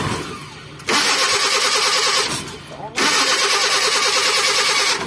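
A Mitsubishi Colt SS with a carburetor engine revs high in a loud, sustained roar that dips twice before climbing back, and voices can be heard alongside it.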